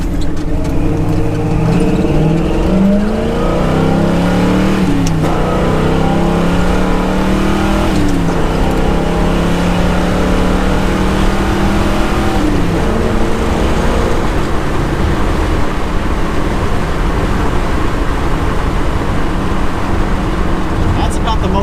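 A 1965 Pontiac GTO engine hums steadily and loudly throughout, its pitch rising and falling as the car accelerates and shifts while driving.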